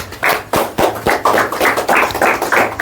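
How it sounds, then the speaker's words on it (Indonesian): A small group claps for a karate master at the close of a talk session, with distinct, loud, slightly uneven claps in a fairly quick rhythm that sound close by. "Tepuk tangan dulu untuk Sensei"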